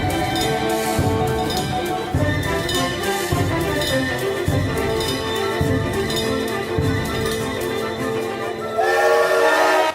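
A Maria Fumaça steam train excursion near Anhumas station in Campinas, Brazil, gives a loud, steady rolling rumble with rhythmic clatter and sustained whistle-like tones over ten seconds, growing brighter and louder at the close.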